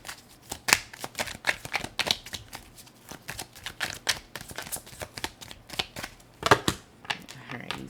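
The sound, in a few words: Kawaii Tarot cards being shuffled and flopping around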